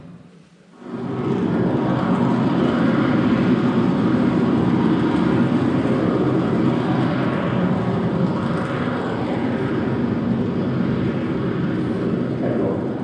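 A deep, steady roar from an Indonesian volcano crater with a broad rumbling texture starts abruptly after a second and continues loud and unbroken, like a powerful vent blasting.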